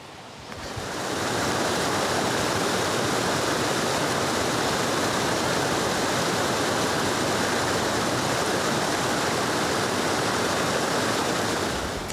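Steady rushing of a creek flowing over rocks during a hike, a dense, continuous wash of water close by that swells in within the first second and holds loud and even throughout, with no voices.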